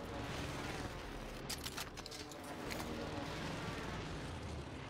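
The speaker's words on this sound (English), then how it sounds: "I got hit by an airstrike." Airstrike explosions in the video game Warzone, a dense continuous rumbling blast wash with a burst of sharper cracks near the middle, loud and sustained through the whole stretch.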